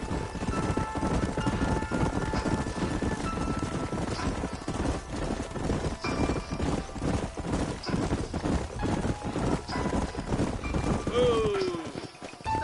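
Horses gallop across open country in the Red Dead Redemption video game, hooves clip-clopping in a fast, continuous rhythm with a brief whinny near the end, and voices talk over the hoofbeats.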